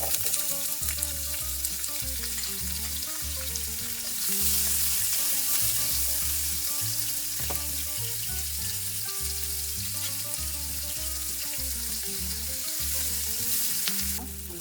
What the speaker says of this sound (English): Okay, so now I add a little bit of olive oil. I'm going to add the onions.